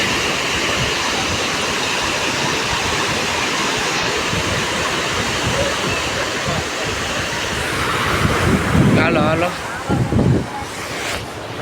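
Sea waves rolling onto a coast near Kotda: a continuous rushing roar of surf mixed with gusty wind buffeting the microphone, swelling louder toward the end while a man briefly calls out.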